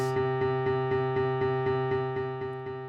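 A synth repeats a steady sequenced pattern of even pulsing notes at a constant tempo, sustained and moderately loud throughout.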